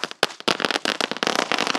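Lollipop-type firecracker from Sivakasi bursting at close range, a dense run of sharp crackling pops in rapid irregular succession, loud and continuous with brief gaps.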